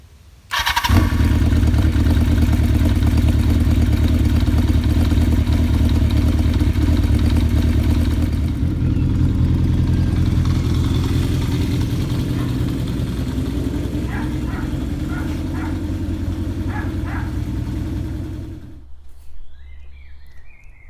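A Kawasaki GT750 motorcycle engine starts and runs at a loud, steady idle for about eighteen seconds, its low throbbing rumble close by, with faint clicks partway through before it cuts off abruptly near the end.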